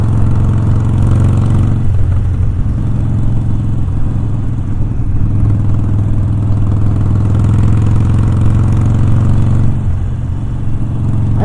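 Harley-Davidson motorcycle engine under way, a loud, steady low rumble with continuous mid-range clatter and slight surges in pitch, close to the microphone with no talking.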